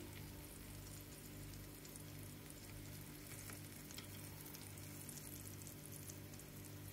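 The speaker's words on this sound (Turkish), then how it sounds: "patlıcanları da aynı şekilde iyice her yerini kızartıyorum" Steady, quiet sizzling and crackling of eggplant frying in hot oil, a continuous bubbling hiss with no voices.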